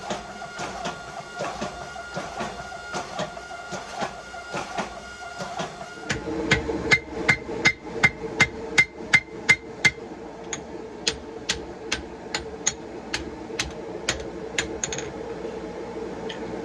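A hammer forges a wrought iron camp axe on an anvil in steady, rhythmic blows, with some strikes ringing brightly off the anvil. The blows grow sharper and louder partway through and continue close up, with no talking.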